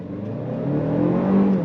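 A 2025 Lexus RX500h F Sport Performance hybrid pulls away from a dead stop, its engine note climbing smoothly in pitch as it gathers speed, loud and close with a steady whirring tone.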